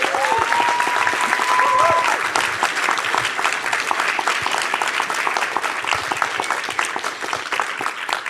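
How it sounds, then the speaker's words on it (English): A conference audience at DevOpsDays Portland gives sustained, dense applause for volunteers, a steady roar of many hands clapping at close range with a brief voice at the start. "can I also have a round of applause for our great volunteers?"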